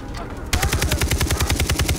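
A rapid, evenly spaced string of loud shots bursts in after a quieter half-second, from a firefight with snipers in the video game Far Cry 3, steady machine-gun-like rhythm close up.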